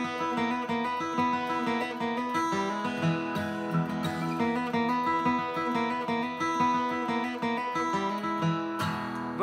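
Bluegrass flatpicked acoustic guitar plays a quick lick in E at a faster tempo, a steady stream of crisp, evenly picked notes with ringing strings, close and clear with no talking.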